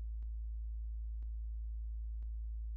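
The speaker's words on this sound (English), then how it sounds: "this whole area has this weird low hum in the background" Steady low hum running under a Broken Sword 2: The Smoking Mirror game area, constant and droning throughout, with three brief faint clicks spaced about a second apart and no talking.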